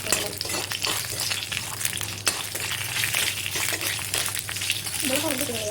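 Chana dal and Kashmiri chillies fry in hot oil for a fish curry. A dense, loud sizzle runs continuously, with spoon scrapes and stirring, and faint speech in the background.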